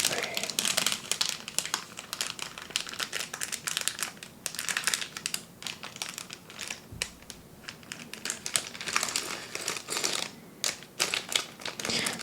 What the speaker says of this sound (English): Even right now, I really enjoy the crinkles of the cellophane.